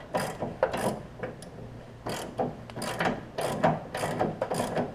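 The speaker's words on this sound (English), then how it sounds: "I'm going to take this nut over here and I'm going to tighten it" A ratchet tightens a nut on a Craftsman 42-inch mower deck with repeated bursts of quick metallic clicking. Each burst of pawl clicks comes close and clear, with short pauses between strokes.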